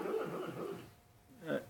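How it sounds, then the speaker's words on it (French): A pet dog whimpers and makes low growling noises in its sleep while dreaming, a short run of soft, close whines and grumbles, a pause, then one more brief whimpering burst. "ce bruit que vous entendez, c'est le toutou qui fait un rêve"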